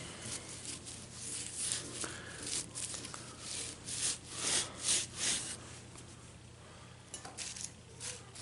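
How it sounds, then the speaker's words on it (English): Sandpaper scrubs the rotor of a Chevrolet 6.5L diesel starter in uneven bursts of close, scratchy rubbing over a faint steady hum, with no talk. "just take your sandpaper, if you've got a good rotor section, just take it and clean it up"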